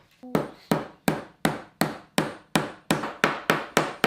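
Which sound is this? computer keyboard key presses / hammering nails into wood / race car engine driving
hammering nails into wood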